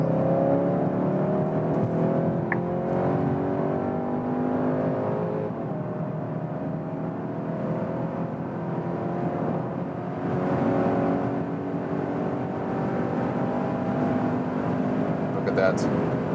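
A 2021 Skoda Octavia RS 245 hp TSI engine hums steadily while accelerating from 80 km/h, with a low droning roar and faint whirring, continuing throughout without a clear pause.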